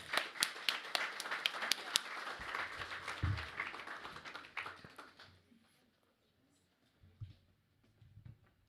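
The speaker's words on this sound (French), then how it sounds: "Est-ce qu'on peut l'applaudir?" An audience at a 2022 water baptism applauds Karen with scattered claps that build and then fade out, followed by a near-silent pause and a few soft low bumps.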